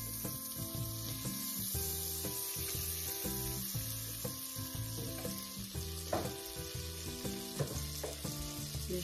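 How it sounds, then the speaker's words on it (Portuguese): Butter melting and sizzling in a cooking pan as the base for a potato cream soup, a steady frying hiss running the whole time with scattered small crackles and stirring knocks, close and alone without talk. "Vou colocar a manteiga na panela"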